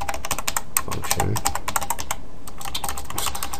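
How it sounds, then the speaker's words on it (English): Code typed on a computer keyboard during an HTML5 programming lesson: rapid, irregular clicking keystrokes close up, bursts of taps with short pauses between, alone without speech. "I said function, so I started typing it."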